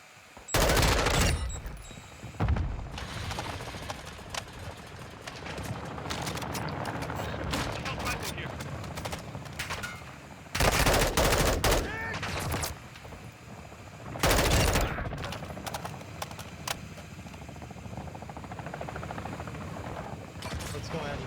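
Bursts of rapid video game gunfire cut in loudly at several points, separated by stretches of busier background action and mechanical noise, with a helicopter-like drone running underneath.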